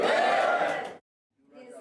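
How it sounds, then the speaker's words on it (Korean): A crowd at a campaign rally for a gubernatorial candidate in Gangwon cheers and shouts loudly, breaks off abruptly into silence, then a fainter murmur of voices returns. "박수와 환호가 쏟아집니다"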